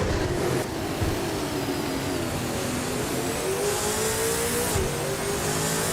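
A 2018 Holden Commodore ZB V8 supercar races around the track, its engine roaring loud and steady with rising revs as it passes close by, with no talk over it.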